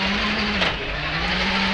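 A rally car in the Colin McRae racing game roars out of a hairpin after a handbrake turn, its engine droning loud and close in a steady held note for the whole stretch, a brief rise in noise partway through, with no talk over it.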